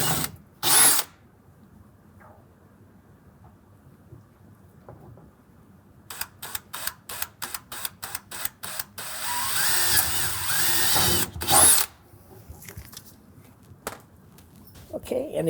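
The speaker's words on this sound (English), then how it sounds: "we're gonna use the 1/8" drill bit to drill those holes" A power drill with a 1/8 inch bit bores holes in a 2024 Ford F-150 flange for mud guards, with two sharp, loud whirring bursts near the start and end and a run of rapid clicking between them.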